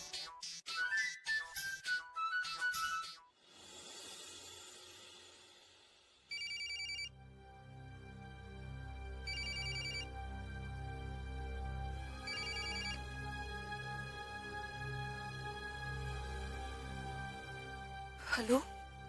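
A phone rings on an outgoing call, repeated bursts of electronic ringback tone in a steady rhythm, with a low background hum between them, preceded by a short stretch of tones and noise.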